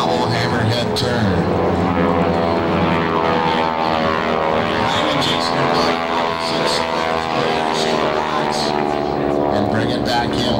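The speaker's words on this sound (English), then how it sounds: "Brian Reagan and Jason Wilson go straight up 20, 10, 0 miles an hour using the rudder with prop blast over the tail, turning the airplane on the vertical line for a double hammerhead turn." Propeller-driven World War II warbird airplanes perform a double hammerhead turn at an airshow, their loud, steady engine drone filling the air throughout with someone talking over it.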